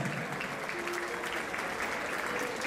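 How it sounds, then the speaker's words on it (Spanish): Steady applause from a festival crowd for a women's cultural dance group rehearsal, a continuous even clapping wash at moderate level with no talk. "Venga, ese aplauso bonito."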